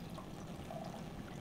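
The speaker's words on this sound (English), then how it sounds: "we'll just wring a little bit of the isopropyl alcohol water mixture from the shirt" An isopropyl alcohol and water mixture is wrung from a cloth shirt, a faint, brief dribbling trickle of liquid over a soft background.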